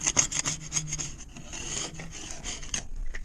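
Coarse 50-grit sandpaper scrubs a fouled bronze boat propeller, a series of quick rough rasping strokes in uneven rhythm, close and fairly loud, with no voices.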